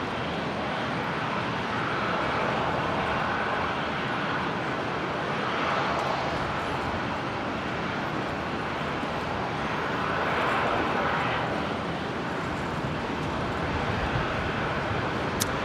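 An airliner departs Brisbane International Airport with a sustained, loud jet roar that swells and eases slightly over its length, no voices present.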